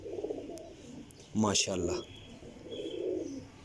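Domestic flying pigeons, feathered feet and tight closed tails, coo in a low murmur across the clip while someone speaks briefly in the middle.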